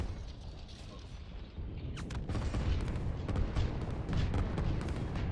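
Artillery units firing on a group of tanks in the strategy game Line War, a series of sharp cracking shots and impacts that thicken and grow louder over a steady rumbling battle background.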